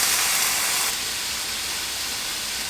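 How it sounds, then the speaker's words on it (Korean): Fresh cream hits a hot pan with bacon and shrimp for cream pasta, making a broad, steady hissing sizzle that is loudest at first and eases slightly after a second, with no talking. "그래서 살짝만 볶아주신 다음에 생크림 넣습니다."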